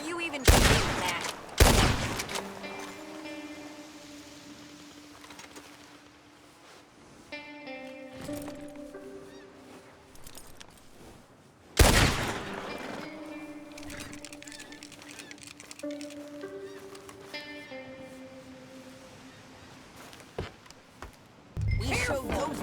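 Gunfire in the video game Red Dead Redemption 2: a few loud, sharp shots separated by long gaps, mixed with game music and character dialogue.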